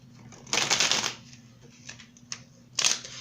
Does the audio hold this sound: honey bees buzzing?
no